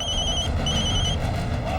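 A telephone rings in a Telugu TV serial scene, a close, loud, repeating electronic ring in two bursts with a short gap between them over a steady background.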